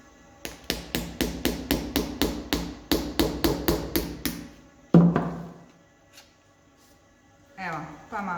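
Rapid hammer strikes driving nails into a moss wreath, about sixteen sharp, evenly spaced blows in quick succession, then one heavier hit, followed by quiet with faint handling.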